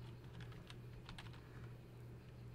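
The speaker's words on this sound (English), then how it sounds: "Type your last name." Typing on a computer keyboard while entering a last name in Microsoft Word, a quick run of faint key clicks in an irregular rhythm over a steady low hum.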